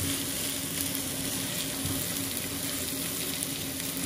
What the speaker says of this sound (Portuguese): Pronto, agora espera a cenoura refogar,